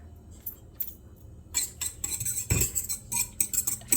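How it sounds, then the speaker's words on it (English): A small whisk stirs homemade pizza dough mixture in a bowl, with a quiet start followed by a run of rapid, clicking taps of metal against the bowl that grows louder over the last few seconds. "Just whisk it down in there."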